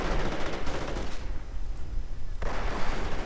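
Gunfire and artillery from a World War II real-time strategy game (Company of Heroes Eastern Front mod): dense, continuous rumbling explosions and shots, with a brief lull before the barrage swells loud again.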